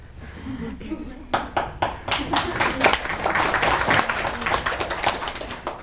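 Scattered hand claps start after a moment and swell into steady applause from a small crowd of university students, with voices mixed in underneath.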